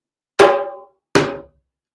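Two separate strikes on a hand drum, a sharp slap and then a deeper open bass tone, each ringing out and dying away, with a short silence between them and no voices.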